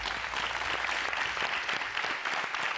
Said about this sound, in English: A round of applause for our first debate.